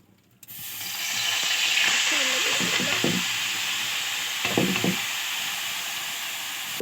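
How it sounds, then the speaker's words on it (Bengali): Grated carrots dropped into hot oil set off a sudden loud hiss that settles into a steady, close sizzle, with a couple of brief stirring scrapes partway through. "গাজরগুলা তেলের মধ্যে দিয়ে দিয়েছি এটা ভালো করে ভেজে নেব"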